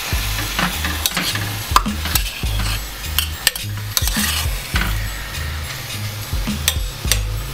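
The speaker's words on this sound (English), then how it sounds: "Get the peppers and onions and tomatoes mixed in well with the shrimp." Shrimp with peppers, onions and tomatoes being stirred in a hot pan, a steady sizzle broken by repeated scraping and clinks of a utensil against the pan.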